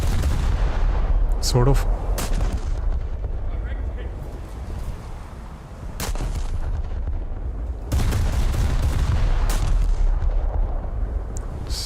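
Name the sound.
gunfire shots in a naval video game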